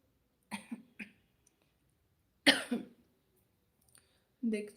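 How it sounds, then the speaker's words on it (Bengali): A few short, rough coughs from someone with a cold, in separate bursts, close by, with quiet pauses between them. "হালকা হালকা কাশি হচ্ছে"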